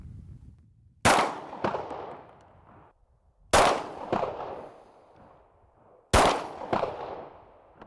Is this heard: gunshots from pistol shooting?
yes